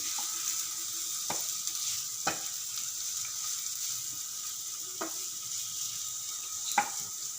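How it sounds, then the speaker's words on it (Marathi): Tomato sautés in oil with curry leaves and chillies for sweet corn upma, a soft, steady sizzle broken by four sharp clacks of a spoon against the pan as it is stirred; no talking. "आपण त्याच्यात आता हा टोमॅटो टाकूया एक टोमॅटो घेतलेला आहे मी तो टोमॅटो टाकूया आणि परतून घेऊया"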